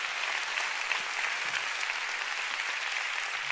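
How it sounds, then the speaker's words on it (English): Church congregation applauding during a sermon, a dense, even wash of many hands clapping, sustained and moderately loud with no voices over it. "go ahead and give the Lord a big hand"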